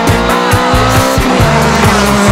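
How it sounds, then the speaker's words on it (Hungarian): Race car with a straight-cut gearbox and short gearing, 172 hp and 190 Nm, accelerating hard: a loud, close, whining engine note with rhythmic pulsing and tire squeal, no talk. "hogyha a gáz nyomom, akkor olyan hangja van, mintha egy villamossal mennék"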